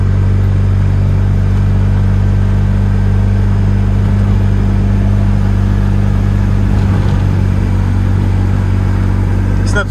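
A Ligier X-Too microcar drives steadily, its small engine droning loud and close in a constant hum from inside the cabin, with a few faint rattles.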